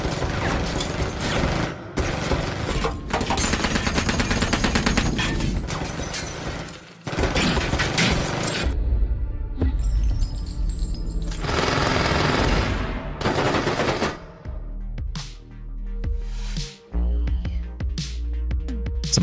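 Machine gun fire in a prison action film, with long dense rattling bursts separated by brief pauses, loud and close, mixed with mechanical clatter and film score.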